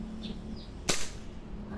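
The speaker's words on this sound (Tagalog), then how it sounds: "pupull na natin yung trigger, puputok siya" A WE M92 Beretta airsoft pistol fires once in double action, a single sharp close snap over a quiet background.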